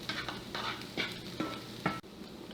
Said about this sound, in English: Now we're going to add in garlic. So this is 3 cloves of garlic that's been minced. And we'll cook this for another minute.